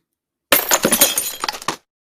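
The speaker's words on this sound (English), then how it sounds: "more glass breaking" Glass shatters in one loud burst of breaking and tinkling shards that lasts just over a second, then cuts to silence.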